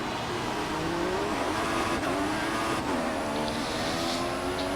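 Race car engines roar in F1 2014 at the Russian Grand Prix, several cars howling together with rising and falling revs as they jostle past at the start, loud and steady, no talking.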